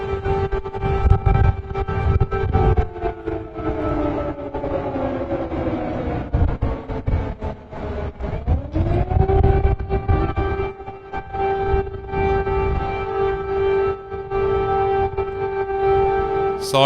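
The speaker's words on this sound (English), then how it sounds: "Sirens in Kyiv, folks." An air raid siren wails across Kyiv, loud and sustained, its pitch sliding down and then rising again to a long steady tone over a broad rumbling background.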